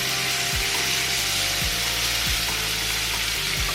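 Large shrimp searing in a hot pan give off a loud, steady sizzle and crackle that runs throughout, broken by a few soft low thumps.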